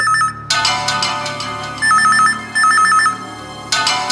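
A telephone rings with a bright trilling ringtone in short repeated bursts, loud and near, with pauses between the rings and no talking.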